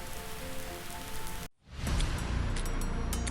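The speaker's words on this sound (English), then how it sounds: "Rain poured over the sleeping city, its neon lights bleeding into puddles like restless secrets." Heavy rain pours over a city at night, a thick continuous hiss that drops out for a moment, then returns louder with spattering drops up close.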